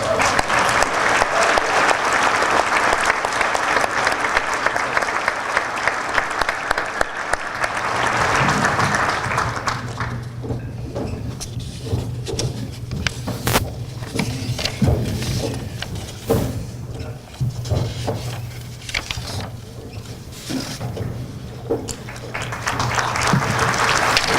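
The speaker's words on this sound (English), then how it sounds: "Let's give them even a bigger round of applause." Applause from a conference audience at the 47th Annual Access Conference, loud and dense at first, then thinning into scattered claps with a low hum beneath before swelling again near the end.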